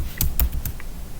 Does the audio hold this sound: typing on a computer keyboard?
yes